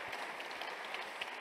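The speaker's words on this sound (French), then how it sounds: "je pense qu'on peut vous applaudir" Audience applause at the end of a French round-table discussion on digital trust, a steady, fairly quiet wash of many hands clapping at some distance, continuous for the whole moment with no voices over it.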